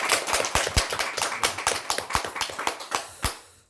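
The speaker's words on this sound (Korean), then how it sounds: "우리가 한번 같이 열심히 공부하는 의미에서 박수 한번 치겠습니다" Lecture audience at a Korean Buddhist talk on the Diamond Sutra clapping together, a dense burst of applause with sharp overlapping claps that tapers off after a few seconds.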